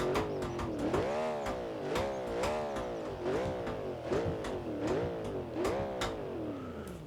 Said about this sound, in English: That sounds like a feckin' race car.